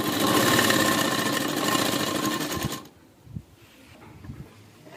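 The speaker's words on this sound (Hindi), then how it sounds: "इस तरह हमारी पूरा नीचे तक हम सिलाई करेंगे जहां तक हमें जिप लगानी है" A sewing machine runs loud and steady, stitching a lined kurti toward the zip opening, then stops abruptly, leaving only quiet handling thuds of the fabric.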